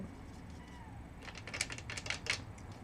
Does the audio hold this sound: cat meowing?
yes